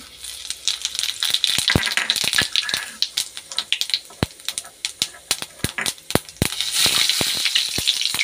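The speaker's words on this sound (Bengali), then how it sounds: "আলু ভাজার তেলের মধ্যে জিরে দিয়ে দিচ্ছি" Sharp, rapid popping and crackling of cumin seeds sizzling in hot oil left from frying potatoes, dense irregular bursts over a constant hiss, close and loud.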